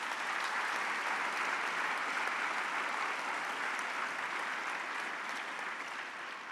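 A crowd at an award ceremony for human excellence in Muddenahalli, India, claps steadily, a dense, even roar of hands that holds level and then eases slightly toward the end, with no voices over it.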